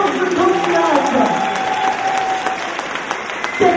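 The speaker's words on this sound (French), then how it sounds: "une vague d'applaudissements pour nos 14 candidates" A burst of applause from a crowd at a Miss Orléanais beauty pageant in France, clapping steadily and then tapering off, with someone talking faintly over it.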